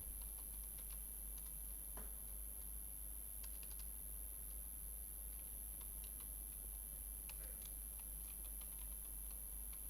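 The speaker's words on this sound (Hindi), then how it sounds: "तो टाइप कर देते हैं हम पासवर्ड" Fingers tap out a password on a computer keyboard: a few sparse, light key clicks scattered over a steady low hum in a quiet room, with no voices.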